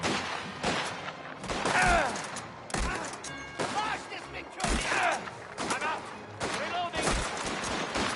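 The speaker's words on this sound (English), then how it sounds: "Oh, this is a shotgun." Repeated shotgun blasts in the video game Mafia: The Old Country, loud sharp reports fired at irregular intervals during a gunfight, mixed with other gunfire and a voice talking over the action.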